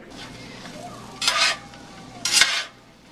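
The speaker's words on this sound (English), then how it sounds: "you're going to add your onions and your mushrooms and saute them up" Onions and mushrooms sautéing in butter in a pan give a low, steady sizzle, broken by two louder bursts as the pan is stirred or shaken, with no voices.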